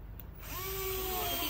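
Power screwdriver driving a screw into a panel of a two-door wardrobe during assembly, a short whirring motor tone that starts after a moment and holds steady, close.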